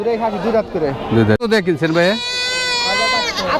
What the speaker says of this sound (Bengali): ছাগল আছে দেশি ছাগল